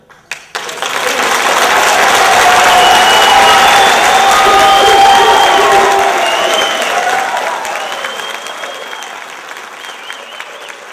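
A crowd at an Allegany County commissioners meeting breaks into loud, sustained applause mixed with cheering and crowd noise that swells, holds for several seconds and then tapers off.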